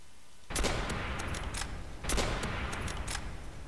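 M1 Garand rifle gunfire in the Roblox game Call of Robloxia 5, two bursts of rapid sharp shots about a second and a half apart, with continuous gameplay noise underneath.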